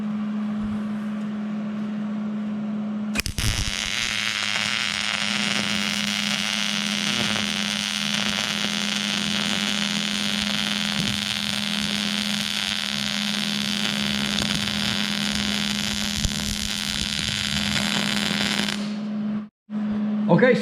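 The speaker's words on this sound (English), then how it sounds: "there's my 2 tacks, and now I'll do the weld" A hobbyist wire feed welder lays a lap weld on steel, a steady close crackling buzz that starts abruptly and runs unbroken for about fifteen seconds over a low electrical hum before cutting off.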